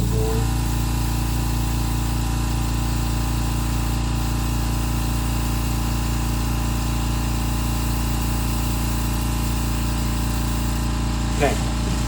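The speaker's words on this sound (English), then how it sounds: "sorry for the loud compressor." A loud air compressor runs steadily and continuously throughout, a constant droning hum with a brief faint rattle near the end, while painting an old man latex mask.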